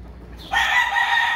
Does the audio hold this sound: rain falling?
no